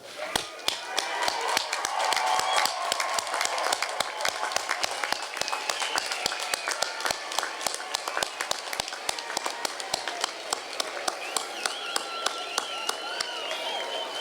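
A commencement audience applauds and cheers the graduates with steady, dense clapping from a large crowd and a blur of voices, continuing without pause throughout.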